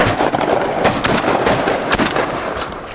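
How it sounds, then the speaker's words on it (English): A loud, sharp shotgun blast, then another, rings out during a duck hunt on the water, with the dense crack of gunfire filling the whole moment. "I thought Bo killed him first shot."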